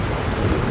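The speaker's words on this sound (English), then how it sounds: "it's a little windy, so hopefully you can hear me." Steady wind roars across the microphone on a beach in Cancun, a loud, continuous, blustery rush with no voices.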